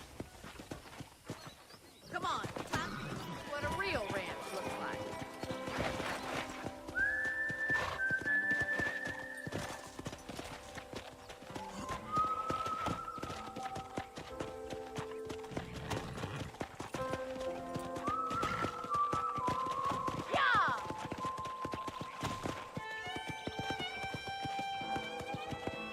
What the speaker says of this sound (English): I picked out a fine horse for you. Come on, boy.